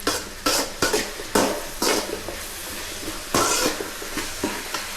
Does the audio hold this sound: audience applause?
no